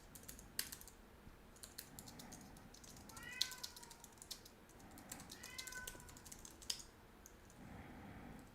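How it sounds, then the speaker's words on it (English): A cat meows several times at moderate distance, short rising calls scattered among steady computer keyboard typing clicks in a quiet room. "I don't know why Dooko's meowing."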